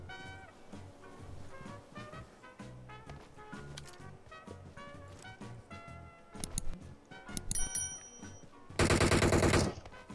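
Gunfire in PUBG Mobile, distant rifle shots cracking over game ambience with background music, then a loud dense burst of automatic fire near the end.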